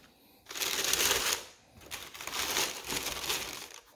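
Paper crinkling while a box of Nike Killshot OG retro sneakers is unpacked, two close bursts of rustling and crumpling separated by a short pause, with no talk.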